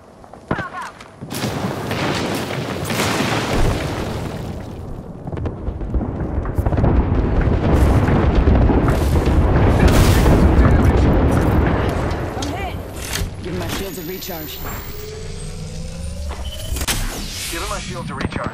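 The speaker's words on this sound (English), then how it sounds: "Airstrike coming in." Bangalore's airstrike in Apex Legends sets off a long rolling series of heavy explosions and booms, swelling and fading amid gunfire and voices.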